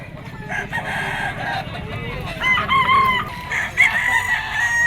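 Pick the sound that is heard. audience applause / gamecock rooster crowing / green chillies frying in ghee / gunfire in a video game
gamecock rooster crowing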